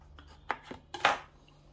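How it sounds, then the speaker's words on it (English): Knife chopping baby tomatoes on a cutting board in a home kitchen: a few quiet, separate taps and slices, close but soft, with no talk. "So, some chopped up baby tomatoes."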